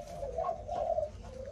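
A Malaysian spotted dove coos softly in low, rolling phrases, faint and fairly close over a quiet noisy background, with no talking.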